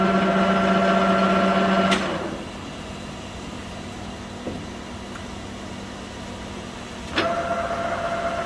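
A Leblond Regal 24 lathe with a 36-inch swing and 144-inch centers runs at about 180 RPM, giving a steady mechanical hum and whine that drops away after about two seconds and then starts up again near the end.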